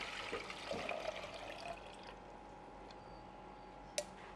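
Cooled cumin-seed water being strained through a filter in a home kitchen, a close liquid trickle and splash that is strongest at first and then thins out, ending with a brief small clink.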